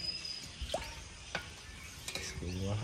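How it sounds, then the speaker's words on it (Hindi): A tadka of tempering spices sizzles as it hits buttermilk for raita, cooked outdoors on a riverbank in the rain, with brief crackles, stirring scrapes and faint background noise. "और ये मठा में तड़का लग गया है।"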